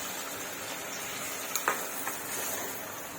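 Eggs sizzle gently in a simmering egg korma spice paste, a soft, continuous frying hiss with a few small pops and clinks, faint and steady without talk.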